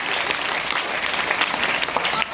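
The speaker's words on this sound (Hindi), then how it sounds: "जोरदार ताली होना चाहिए।" Crowd applause at a large recognition night event in Ranchi, a loud, sustained burst of many hands clapping together, close and full throughout.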